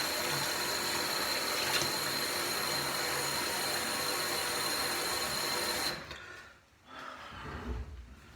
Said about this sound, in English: a bit of cold water.